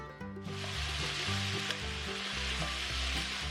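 Carrots and peppers stir-frying in a pan for homemade noodles, starting with a sudden loud sizzle as the vegetables hit the hot pan, then a sustained close crackle with light stirring and no voices.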